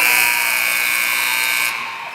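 End-of-quarter buzzer at a varsity girls' high school basketball game, Manton versus McBain, sounding as one loud, sustained electronic tone that holds steady for nearly two seconds, then cuts off, leaving fading gym ambience.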